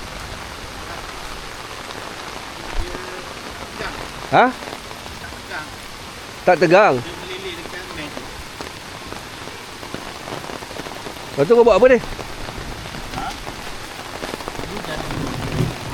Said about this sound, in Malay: Ada hujan?